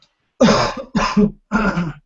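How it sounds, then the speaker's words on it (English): Three harsh, close coughs in quick succession, each a short raspy burst separated by brief silence, with no talking. "Didn't mean to cough up a lung"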